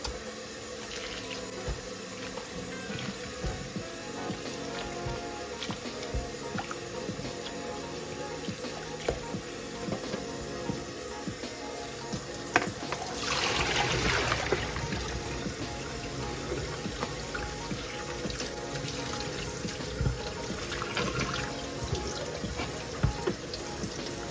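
Tap water runs steadily into a kitchen sink as shrimp shells are rinsed for stock, a continuous close splashing stream with a brief louder gush partway through and no talking.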